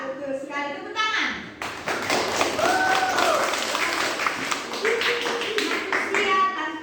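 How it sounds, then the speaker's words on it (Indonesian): A class claps hands during a teaching practice session, a burst of close, mixed applause lasting several seconds with voices speaking around it. "Tepuk tangan."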